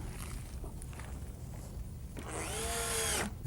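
Power drill driving a screw into wood, a whining burst that rises briefly near the end after quiet handling and shuffling sounds.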